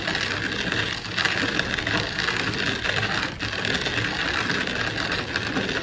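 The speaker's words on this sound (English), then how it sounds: "Some more of the Schnitzer grain roller in action." A Schnitzer grain roller crushes rye grains in a steady, dense, loud rushing rattle that holds almost unbroken throughout, with no one speaking.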